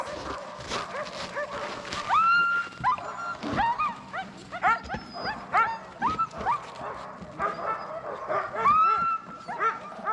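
Several Alaskan sled dogs bark and yip excitedly in rapid, overlapping bursts, with high whines between, close by and continuous.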